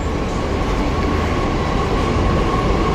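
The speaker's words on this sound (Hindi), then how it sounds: "मेट्रो आ गया है।" A Delhi Metro train on the Dwarka line arrives, rumbling loudly and steadily, with a continuous low roar and a faint high whine, no voices heard.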